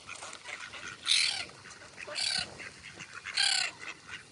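A duck by a river gives three separate raspy calls, each a short honking burst about a second apart, fairly near over a quiet outdoor background.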